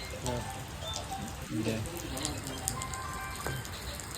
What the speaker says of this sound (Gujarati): બહાર વરસાદ ચાલુ છે